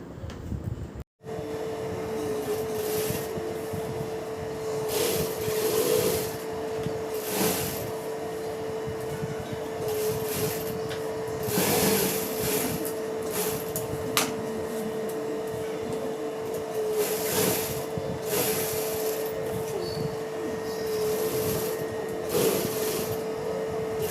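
Sewing machine stitching a blouse lining, a steady mechanical hum with a constant tone running continuously and brief surges and pauses, recorded alone without speech.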